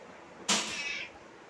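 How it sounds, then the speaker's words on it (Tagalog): A single short meow from a nearby cat, hungry and calling, rising out of quiet room tone about halfway through and fading quickly, with no talk over it. "Tatlo pusa dito."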